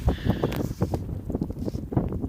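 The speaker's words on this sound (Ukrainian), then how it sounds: "Вітер дує, холодно" Cold winter wind buffets the microphone outdoors in a garden while young fruit saplings are wrapped against hares, a rough low rumble with gusty bursts that rise and fall throughout.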